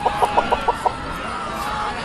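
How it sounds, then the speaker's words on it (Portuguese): Chickens cluck in a quick run of about six sharp, evenly spaced calls in an ancient Jerusalem setting, fairly close, over a steady murmuring background. "Parece que até as galinhas de Jerusalém buscam refúgio em você, Daniel."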